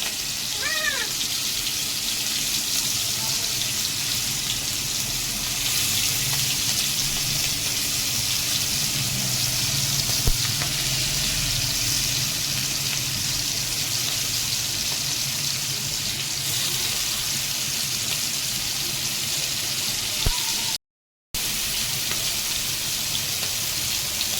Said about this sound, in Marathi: ही कोळंबी आहे ती पण आता तेलात सोडते मी तवा फ्राय करते कोळंबी